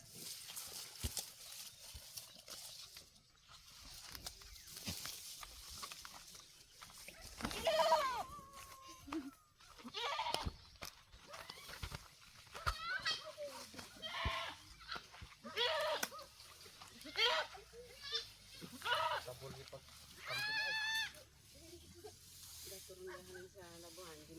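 Goats kept by a rural household in Mindoro bleat several times at intervals, faint and a little distant, with people talking and outdoor rustling around them.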